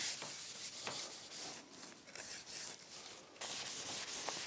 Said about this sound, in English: just rub off the excess, rubbing with the grain